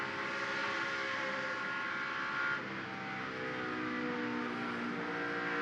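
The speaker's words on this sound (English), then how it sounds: "You hear how long he's out of the throttle" NASCAR Camping World Truck Series race truck at Atlanta, its engine note holding steady then dropping as the driver lifts off the throttle, a loud continuous roar with a slight step down midway.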